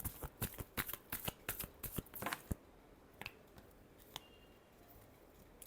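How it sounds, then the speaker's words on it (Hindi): A deck of tarot cards is shuffled by hand in a quick run of crisp riffling bursts. After that come a few single taps and flicks, all close to the listener in a quiet room. "Last shuffle."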